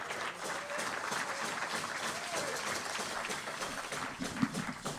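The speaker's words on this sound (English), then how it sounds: "let's give Gary a round of applause real quick" Applause from an audience at a Rotary Club meeting in Tucson, a soft, steady patter of clapping that carries on for several seconds and sounds somewhat distant.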